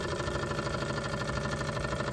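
A steam engine running on hydrogen gas, a steady continuous mechanical drone with rapid even pulsing, close and constant throughout without pauses.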